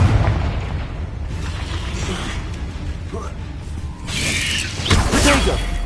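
Loud blasting-spell explosions boom in a spell-casting video game, with a rumbling low roar building into a sharper burst near the end, and some speech mixed in beneath.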